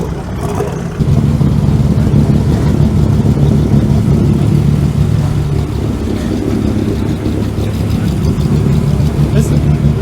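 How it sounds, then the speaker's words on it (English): A Porsche with lumpy cams idling at a hillclimb event, a loud, close, uneven low rumble that begins after a second of quieter background and continues steadily to the end. "Listen, have you heard the Porsche?"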